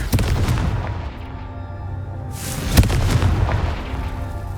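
A Confringo spell explodes in Hogwarts Legacy, a loud booming blast with a sharp crack near the middle, surrounded by rumbling game effects and no talking.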